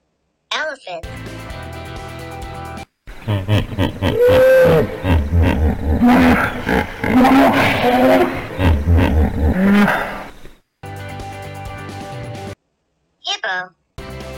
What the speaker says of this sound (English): Hippo.